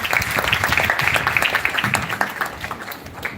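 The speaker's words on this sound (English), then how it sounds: "A huge round of applause for him." Applause from a school event audience, a dense steady patter of many hands at moderate loudness that thins slightly toward the end, with no talk over it.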